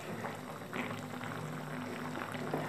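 Thin fish curry broth with potato bubbles at a steady boil in a pot on a high gas flame, a soft continuous simmering fizz with a faint hum beneath.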